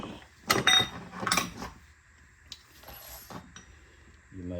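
Ratchet fitted with a 17 mm socket working on the rear shock bolts of a 2017 Prius Prime, two short bursts of clicking followed by fainter metallic taps and clanks nearby.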